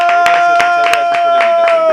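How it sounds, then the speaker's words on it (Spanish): Studio audience applause on a Spanish-language comedy show, a loud burst of rhythmic clapping lasting a couple of seconds. "¡Aplausos!"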